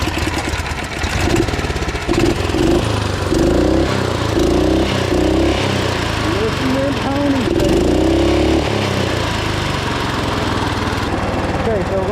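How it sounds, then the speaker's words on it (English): A Roko Ranger 2WD off-road mini bike's small engine starts on one pull and runs close by, a buzzing lawnmower-like putter that rises briefly with throttle, while someone talks throughout. "You choke the engine. 1 pull, give it a little throttle."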